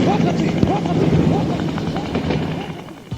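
Steady rotor chop and engine roar of a helicopter, fairly loud and continuous, with a voice faintly mixed in beneath it.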